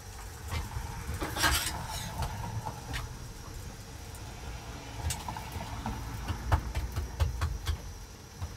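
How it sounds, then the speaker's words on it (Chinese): A hand-grabbed pancake (shou zhua bing) cooks in a pan, with a soft background sizzle broken by scattered clinks and scrapes of a utensil against the pan, quiet and fairly close, with no speech. "给孩子煎个手抓饼"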